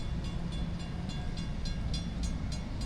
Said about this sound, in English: Notice a couple of trains about to pass by